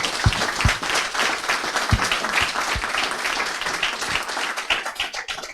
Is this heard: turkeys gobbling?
no